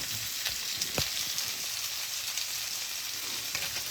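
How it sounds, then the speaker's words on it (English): Spinach-stuffed chicken sizzles steadily in a hot frying pan, a continuous bright hiss with faint pops and crackles, close and alone with no talk. "do y'all hear me sizzling over here?"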